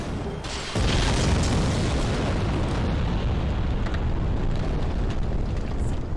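A sustained, loud rumbling roar from an explosion in the video game Dark Souls, starting abruptly after a brief quieter moment and holding as a dense, continuous boom with no talking over it.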